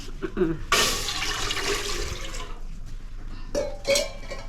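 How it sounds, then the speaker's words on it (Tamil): Water poured from a tumbler into a cooking pot over a wood-fired stove in a village kitchen, a broad splashing rush lasting a couple of seconds, followed by a few lighter splashes, close by. "ரெண்டு டம்ளா தண்ணி ஊற்றிருக்கேன்"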